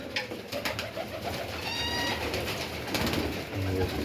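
Broad-tailed pigeons coo softly in low, throaty murmurs, several birds together against a steady background hum.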